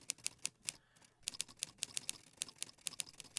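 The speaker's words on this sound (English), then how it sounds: "He tapped the dispatches on the typewriters with one finger" Manual typewriters rattle with rapid, uneven clacking keystrokes, a brief pause early on, then a dense run of sharp taps close by.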